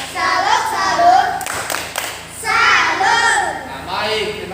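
A grade IV class performing the 'tepuk salut' clapping chant, a short burst of patterned claps in the middle alongside children's voices chanting, with speech before and after.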